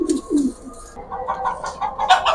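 Silver pigeons in a loft give a few soft, close cooing calls, followed by brighter chirping and rustling sounds, with no talk over them.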